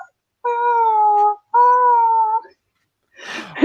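A human voice imitates a cat with two drawn-out, even meows, then goes quiet before a short burst of rustling noise.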